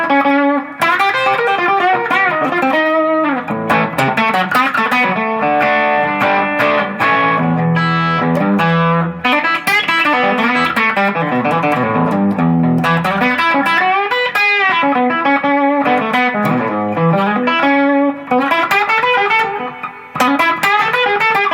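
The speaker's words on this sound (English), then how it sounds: "I wanted to show you this guitar even sounds good with a distortion." Gibson L5 CES electric guitar with distortion playing a continuous melodic riff with sustained, saturated notes, loud and steady throughout with no voices.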